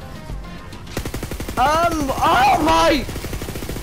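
Borderlands 3 SMG fire: a rapid burst of game gunfire mixed with tonal, warbling electronic weapon sounds, loud and close, with a man's excited exclamation over it.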